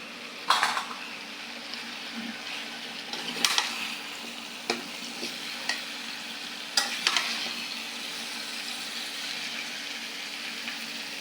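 Pumpkin frying in reddened spiced oil, a soft continuous sizzle punctuated by several sharp scrapes and clinks of a spoon stirring against the pan, with no talking.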